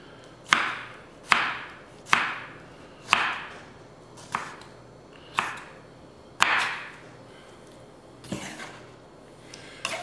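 Knife chopping ingredients for shredded beef tacos on a board, about nine sharp, fairly even strikes spaced roughly a second apart, close and distinct with quiet gaps between.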